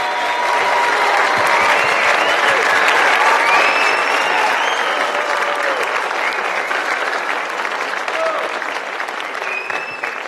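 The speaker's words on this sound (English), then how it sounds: "Can we please give one more big round of applause for our 4th graders?" Audience at a school 4th grade concert claps in a long, full round of applause, with faint voices and cheers mixed in under the steady clapping throughout.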